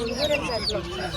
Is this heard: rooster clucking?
yes